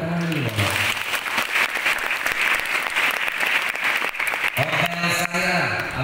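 Sustained applause from an audience at a school lecture given by a religious speaker on Belitung island; thick, even clapping holds for several seconds, with brief voices and tones at the edges.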